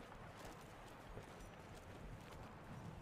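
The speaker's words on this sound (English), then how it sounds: "Horse." Horse hooves clip-clop at a steady running pace in the Western action video game Evil West, faint and continuous under a dense wash of game ambience.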